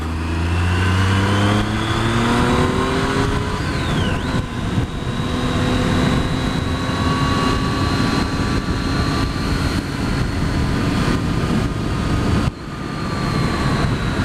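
A 2012 Triumph Street Triple motorcycle pulls hard through corners, its engine rising and falling in pitch with each gear and throttle change, loud and close over steady wind rush.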